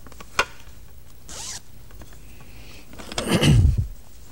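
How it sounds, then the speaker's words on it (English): A zipper is pulled shut on a bag holding a solid mirror during a magic trick, one fast rasping zip near the end after small handling taps and rustles, close and fairly loud. "zip it up"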